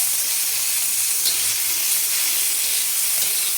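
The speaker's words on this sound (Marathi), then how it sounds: "आणि छान परतून घ्यायची." Cluster beans sauté in a little oil on a flat pan, a faint, even hiss and quiet sizzle running steadily throughout, with no talking.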